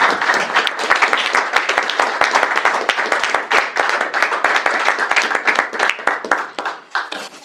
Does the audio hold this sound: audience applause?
yes